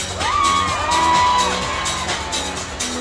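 A carnival crowd at the 2025 Nice Carnival corso parade cheers, whoops and shouts loudly and continuously, with rising whistle-like cries over a dense roar of many voices.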